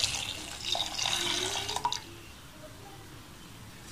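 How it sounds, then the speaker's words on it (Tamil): Milk poured into simmering masala chai in a pan, a soft liquid splashing and trickling for about two seconds, then fading to quiet bubbling. "இப்போ நம்ம பாலை சேர்த்துறலாம்"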